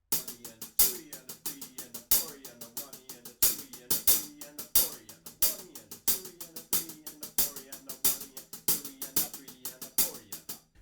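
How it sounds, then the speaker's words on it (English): Accented hi-hat pattern from a drum part for a song, crisp rapid strokes with louder accents recurring in a steady rhythm, close and loud over a low backing. "After that we move just onto the hi-hats and there's an accented pattern that sounds kind of like this."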